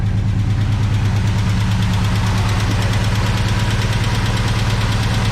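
A 1970 Chevy big block V8 that has not run in over a year idles loud and close, with a steady, rough, pulsing rumble, an uneven misfire beat, and a fast metallic tick riding on top.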